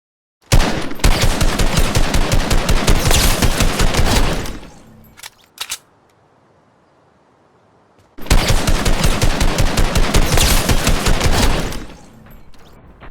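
A blue assault rifle in Fortnite fires two long, loud, rapid automatic bursts close up, separated by a few seconds of near silence with a couple of isolated single shots.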